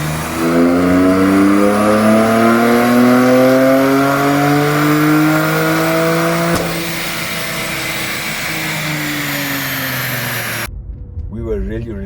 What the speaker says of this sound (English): put onto the dyno to see what power she was running, completely stock